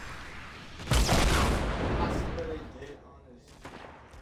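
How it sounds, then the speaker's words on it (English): Gunfire in the video game Fortnite: a sudden loud burst of shots and booms that decays into a rumbling tail, with fainter shots afterward and voices talking. "Probably hear somebody shooting up top above us, northwest or west."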